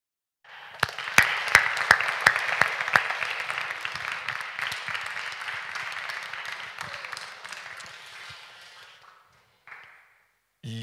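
Audience applause after a documentary film screening in a lecture hall, starting with a few sharp near claps, swelling into steady moderate clapping, then fading out toward the end.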